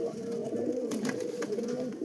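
Madras pigeons give soft, low cooing that rolls on repeatedly, close by, over a light background rustle, with no clear talk.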